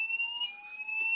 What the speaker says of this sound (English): Mini fire alarm test 49.